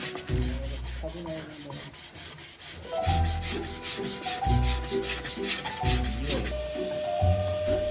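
Rough rhythmic rubbing of coarse sandpaper, a sanding-machine sheet used by hand, on wood for a wooden plate, repeated back-and-forth scraping strokes, close and fairly loud, with no talking.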